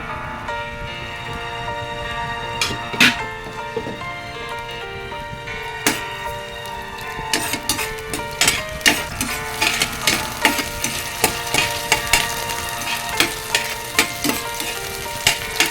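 Chopped garlic dropped into hot oil in a home kitchen, cooking for chicken curry: loud continuous sizzling and crackling with frequent sharp spits and pops, busier as it goes on, close up.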